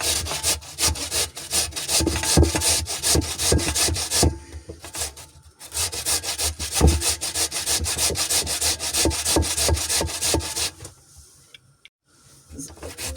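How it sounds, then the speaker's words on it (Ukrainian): Potato and onion are rubbed over a hand grater in quick, rhythmic rasping strokes that run in close-up bursts, with a couple of short pauses between runs. "Для початку ми беремо картоплю пів кіла і цибулини 150 і натираємо на терпочку."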